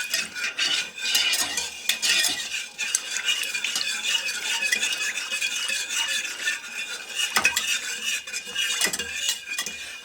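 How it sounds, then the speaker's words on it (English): Sauce ingredients are whisked together in a bowl, producing a continuous scraping and clinking of the whisk against the bowl with irregular metallic taps. "we're going to whisk this up. Get this all blended together nicely."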